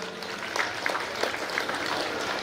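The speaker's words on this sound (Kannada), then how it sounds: "ಅಂಗನವಾಡಿ ಕಾರ್ಯಕರ್ತೆ ಶ್ರೀಮತಿ ಯಶೋಧಕ್ಕೆ ದಯವಿಟ್ಟು ಎಲ್ಲರೂ ಚಪ್ಪಾಳೆ ತಟ್ಟಿ ಪ್ರೋತ್ಸಾಹಿಸಿ." An audience at a Subrahmanya temple festival in Uppinangady claps in scattered, fairly faint applause, the overlapping claps forming a steady patter over a low murmur of the crowd.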